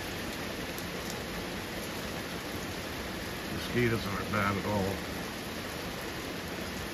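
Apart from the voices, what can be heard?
rain falling at night by porch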